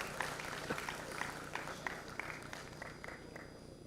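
An audience at the IEEE R10 Humanitarian Technology Conference applauds to welcome a speaker, a faint, steady patter of clapping heard from some distance.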